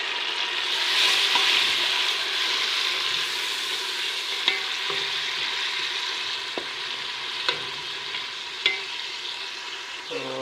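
Tomatoes and browned onions fry loudly in a pan over a high flame, a dense continuous sizzle close by with a few sharp clicks and taps of a utensil against the pan.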